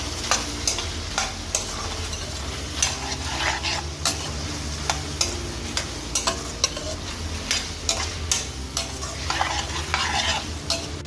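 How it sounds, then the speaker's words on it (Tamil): Ginger garlic paste and green chillies sautéing for prawn biryani, with a steady sizzle and regular scraping strokes of a spoon against the pan, close and loud. "இஞ்சி பூண்டு விழுது ஜெண்டு தேக்கரண்டி பச்சை மிளம்பு உந்தனைக்கும் வதங்க விட்டுருக்கிறேன்"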